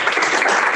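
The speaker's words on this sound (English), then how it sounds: "we can get a round of applause, Lawrence." A brief burst of audience clapping at a board of commissioners retreat, dense and steady, filling the short moment on its own.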